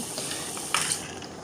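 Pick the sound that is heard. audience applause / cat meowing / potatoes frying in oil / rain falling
potatoes frying in oil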